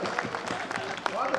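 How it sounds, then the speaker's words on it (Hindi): An audience applauds for the local MLA at a kavi sammelan poetry gathering in Beohari, a brief, moderately faint burst of crowd clapping. "एक बार अपने विधायक जी के लिए भी जोरदार तालियां दे दीजिए"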